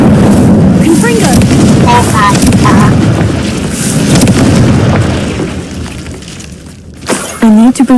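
A Confringo spell blast in Hogwarts Legacy: a heavy booming explosion with crackling debris that swells and then fades over several seconds, followed by sharp magical bursts near the end.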